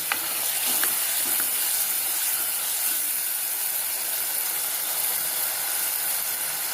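Prawns sautéing in a hot pan for a prawn gravy, a continuous bright sizzle and hiss with a few faint clicks of stirring near the start, close and steady with no one talking.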